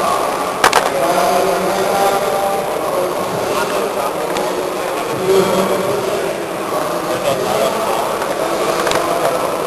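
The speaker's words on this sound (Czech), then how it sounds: "slyšíte jenom zvuk větráků na podalek." Fans whir as a steady, loud broadband hum with a faint low drone and a brief click near the start, no speech over it.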